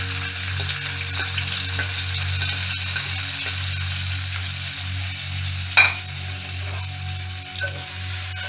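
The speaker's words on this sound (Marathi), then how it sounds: "टोमॅटोला आपण अगदी लाईटली फ्राय करणार आहोत" Finely chopped tomato frying lightly in hot oil for a red lentil curry, a steady close sizzle with one brief stir clink partway through, no voices.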